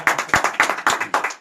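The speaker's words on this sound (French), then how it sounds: "Ça s'applaudit." Applause for a newly released book: a small group clapping in distinct rhythmic bursts, roughly five claps at an even pace, close and fairly clear with no voices.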